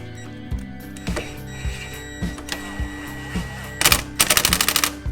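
Wrench tightening the nut on a steering ball joint of a Citroën C4 with a steering fault, giving sharp metallic ratcheting clicks spaced through the clip, then a rapid burst of clicks near the end, fairly close.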